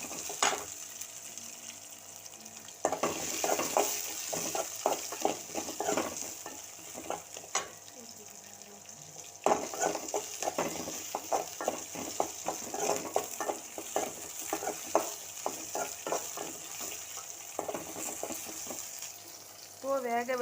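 Curry leaves, onion and green chilli crackle in hot oil after mustard seeds, a sustained sizzle with frequent rhythmic spatula scrapes and stirring clatter throughout.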